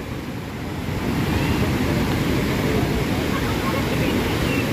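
A steady, loud roar of the Usri river plunging as a waterfall at Usri Falls in Jharkhand, a dense, unbroken wash of rushing water close by.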